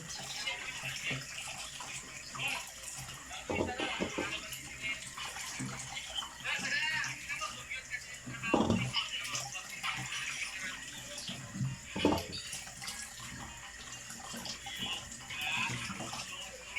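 Peeled cassava being washed under running water, a steady splashing tap stream with sloshing and handling noises, broken by a few louder gushes, close by and continuous.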